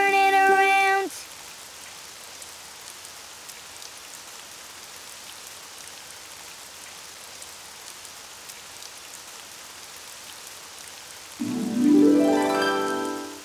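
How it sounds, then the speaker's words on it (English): Steady rain hisses softly throughout, with brief musical tones sounding at the very start and again near the end. "Oh, it's raining outside."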